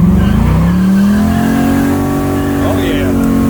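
A car accelerates hard, its engine note climbing steadily as it revs up through the gear, with a hint of tire squeal, loud and close under continuous roar.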